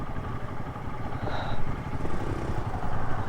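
A Pulsar N160 motorcycle labors up an off-road hill in the Aravali Hills in first gear, its engine a loud, close, rough drone with surging throttle and a rattling clatter throughout.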